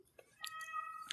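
A cat gives a short, faint meow, a thin wavering tone lasting under a second, with a few soft clicks around it.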